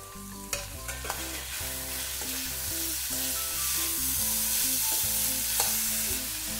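Vegetables and spices for masala Maggi noodles sautéing in a pan, a steady close sizzle and frying hiss with repeated stirring scrapes and clinks across the whole stretch, no talk.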